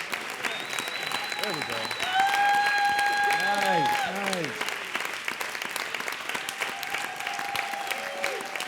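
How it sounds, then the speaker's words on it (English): Sustained clapping from an outdoor crowd at a live street event in downtown Los Angeles, steady and dense throughout, with a voice and other voices speaking briefly over it. "Keep clapping. Keep it up. Keep clapping."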